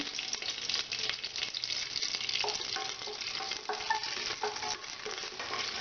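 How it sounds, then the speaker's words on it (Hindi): Bay leaf dropped into hot refined oil sizzles steadily, with scattered crackles and faint stirring scrapes at moderate loudness, no voices. "अब ये तेल गर्म हो चुका है। सबसे पहले मैं तेज पत्ता डालूंगी।"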